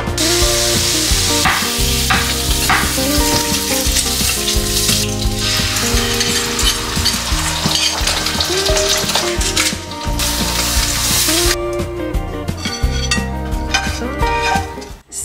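Eggs and bacon frying in a pan for lunch: a steady, loud sizzle and crackle with scattered clinks of utensils and pans, continuous throughout without a break.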